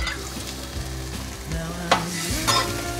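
Tofu slides into a sauce of pepper, sugar and water in a wok and is stirred, giving a loud continuous sizzle with scraping strokes of the spatula and a couple of sharper clanks, no voices.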